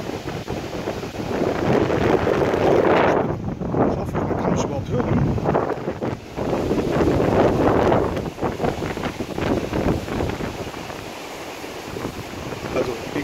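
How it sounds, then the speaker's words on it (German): Strong wind at Playa de Palma buffets the microphone with a loud, rumbling roar that swells and fades while a person talks underneath. "Ich hoffe, man kann mich überhaupt hören, so windig wie das ist."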